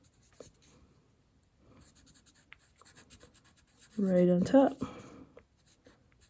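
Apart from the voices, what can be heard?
pencil signing a painting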